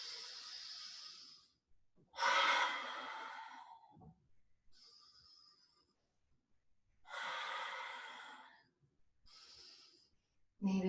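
Deep, slow breaths during a gentle guided movement exercise, long airy inhales and exhales alternating with quiet pauses, close and fairly loud, with no talking.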